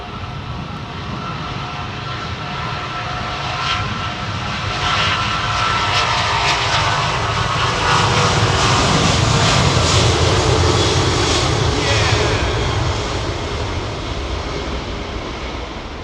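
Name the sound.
airliner jet engines at Heathrow Airport, Qatar A380 on approach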